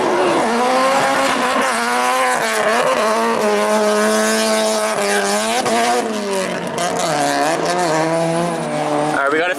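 A drift car's engine roars loudly and continuously while its tires squeal through long slides, the pitch rising and falling as it works around a track.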